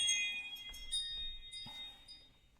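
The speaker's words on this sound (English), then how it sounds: "That's my phone going off." A mobile phone going off with a soft repeating electronic chime, steady high tones with faint pulses, quiet and a little distant.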